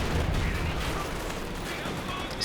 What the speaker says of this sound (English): Nice line artillery barrage in the middle as well.